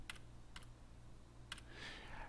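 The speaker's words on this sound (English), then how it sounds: "start scrolling through it with my arrows on my keyboard" Arrow keys on a computer keyboard are tapped in a few sparse, soft clicks, some in quick pairs, faint and close over a low electrical hum.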